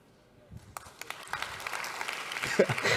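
Scattered clapping from a church audience builds into brief applause, starting sparse and growing denser over a few seconds, with speech mixed in.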